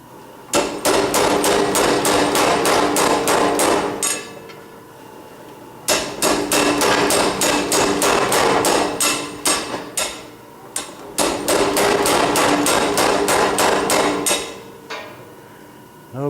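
A blacksmith hammers grooves into all four sides of a metal bar at a smithing conference, striking in three long bursts of rapid, ringing metallic blows separated by short pauses.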